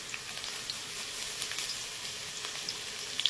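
Grated ginger sizzling in hot oil with potatoes already fried reddish-brown, a steady soft crackle with faint pops close by, no voices.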